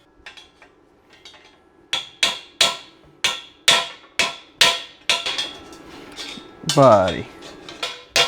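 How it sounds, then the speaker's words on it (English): A hammer strikes metal about a dozen times in a steady, evenly spaced rhythm while a budget engine test stand is being built. The blows are loud and close, and a voice briefly speaks. "Might need a little bit bigger hammer for that one."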